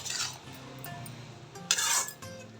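Curd rice with ground fenugreek and mustard powder being mixed by hand in a pot: soft scraping, rustling strokes, with two louder swishes at the start and near the end.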